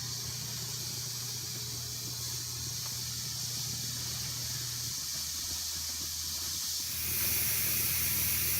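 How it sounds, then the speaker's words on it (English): Steady, continuous hiss of steam venting from a pressure canner close by, holding an even level throughout, with a low hum underneath that drops out partway and a louder surge near the end. "You can hear the steam. It seems pretty steady."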